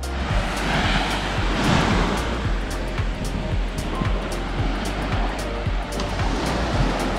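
Gentle waves washing onto a calm beach at Point Vernon, Hervey Bay, a continuous near surf wash with soft rolling breaks and no voices.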